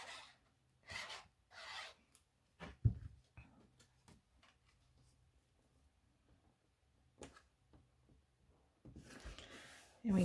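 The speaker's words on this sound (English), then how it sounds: "I just need to burnish the file" Embossed card stock being burnished by hand rubbing, heard as short, raspy scraping strokes in separate bursts with quiet gaps and a few small knocks between them.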